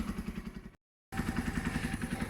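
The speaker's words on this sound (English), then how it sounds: "I'm going to take this bike for a spin, check the brakes." A small 125cc KSR Moto GRS motorcycle engine putters with a rapid, pulsing beat while riding, cut by a brief gap of silence, then resumes close by.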